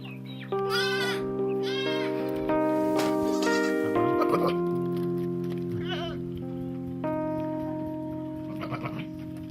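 Several adult goats and their young bleat loudly and repeatedly as the adults return home from pasture, overlapping one another in a busy, close chorus that continues throughout.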